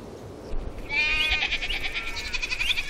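Goats bleat in an open field, a sustained wavering bleat rising over steady outdoor background noise, fairly near and moderately loud.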